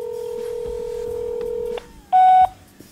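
Telephone keypad tones dial a number, a steady dual-tone beep lasting about two seconds followed by a short loud tone burst, with faint background noise and no talking.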